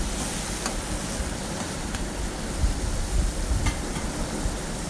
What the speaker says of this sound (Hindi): अब इसमें हमने टमाटर जो बिल्कुल बारीक कर लिया था वो इसमें ऐड कर दिया है, और स्लो स्लो जो है वो इसको जो है वो मिक्स करना शुरू कर दिया।